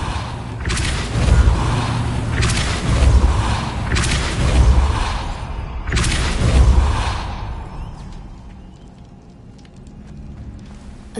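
The Depulso force spell is cast in the wizarding game Hogwarts Legacy, producing a series of four whooshing, booming impacts at steady intervals over a rumbling background before fading to a quieter ambience.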